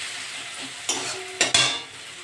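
Pointed gourd fries in oil in a pan while being stirred, a steady soft sizzle broken by three sharp scraping strokes of the spoon near the middle, close and fairly quiet.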